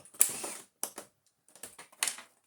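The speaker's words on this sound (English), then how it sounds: "I think we're going to have to remove these 2 screws here" Screws being taken out of a Hoover Turbopower 2 vacuum cleaner with a motor fault: a few short, close ratcheting clicks and scrapes in separate bursts with quiet gaps, fairly faint, no talking.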